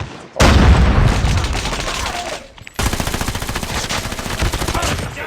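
Rapid automatic gunfire from a Call of Duty match, loud and close: a dense burst of shots, a brief pause, then another long rattling stream of rounds with a booming low end.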